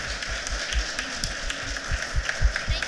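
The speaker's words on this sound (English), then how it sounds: "So can we just give them an amazing round of applause?" Audience applause for a panel at a Dallas Startup Week 2016 session, a steady patter of many hands clapping at close range, continuous and fairly even through the whole stretch.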